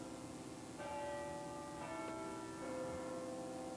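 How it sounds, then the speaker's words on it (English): Church tower bells ringing the hour, several clear, resonant strikes with long ringing decay, heard faintly from a distance over quiet room tone. "There's the bells, perfect timing. Every hour on the hour we hear the bells."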